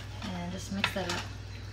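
A utensil stirs tomato sauce in a pan for a paleo lasagna, making a short burst of soft metallic scraping and clinking close up, with a voice briefly audible alongside.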